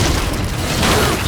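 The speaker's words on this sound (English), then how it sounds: "Boom goes the boomstick!" A boomstick shotgun fires in the video game Shadow Warrior 2, a loud, dense, close blast with a heavy low-end boom filling the whole short moment.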